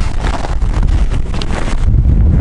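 Strong snowstorm wind in northern Yakutia buffets a lapel microphone fitted with a small windscreen, producing loud, continuous roaring rumble and gusty blasts, close and unbroken, with no talk.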